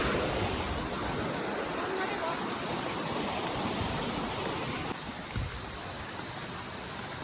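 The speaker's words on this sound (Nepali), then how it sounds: "यो खोलालाई चाहिँ सुनपाले खोला भनिन्छ" The Sunpale river rushes past in a loud, steady broadband roar of flowing water close by, continuous throughout with a slight drop in level near the end.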